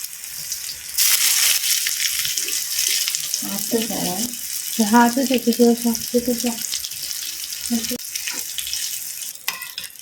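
Eggplant fries in hot oil with a loud, constant sizzling hiss, while brief lower, voice-like sounds rise over it midway through.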